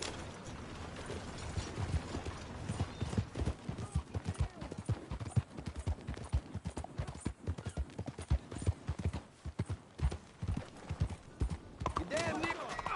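Horse hooves clip-clop at a steady gallop in Red Dead Redemption 2, rhythmic and close, with saddle and tack creaks, an occasional whinny and spoken voices over the hoofbeats.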